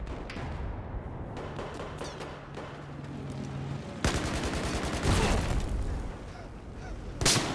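Automatic machine gun fire rattles in rapid, dense bursts during online play of the video game Battlefield 4, with heavy thumps and blasts mixed in, loud and close, especially from four seconds on.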